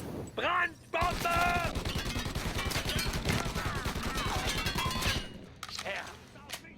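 Dense, rapid gunfire from the Mafia video game, with bursts of automatic fire and shots crackling almost continuously for several seconds under shouted voices, then thinning out toward the end.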